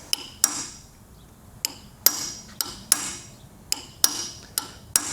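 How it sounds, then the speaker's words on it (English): A sharp chisel is hammered against a wear sleeve on a boat trailer axle to cut it off. About a dozen crisp, ringing metallic strikes come at an uneven pace, loud and close, with quiet gaps between them. "this is where a sharp chisel will come into play, and you're literally going to cut the sleeve off."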